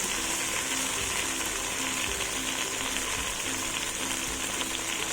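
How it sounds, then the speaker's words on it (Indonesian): Turmeric leaves, lime leaves and spices sauté in olive oil, giving a loud, dense, continuous sizzle that stays even throughout with no voices. "saya kepengen numis aja pakai olive oil"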